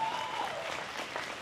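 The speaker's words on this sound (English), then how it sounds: "Let's give both these young ladies a nice round of applause for the exit the ring." A crowd at a 2025 market lamb show applauds as young exhibitors leave the ring, making a steady, fairly soft wash of clapping heard from a distance throughout.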